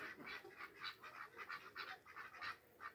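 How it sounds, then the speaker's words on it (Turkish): Chickens clucking in a steady run of short, repeated calls, soft and somewhat distant. "Tavuklarımız yine."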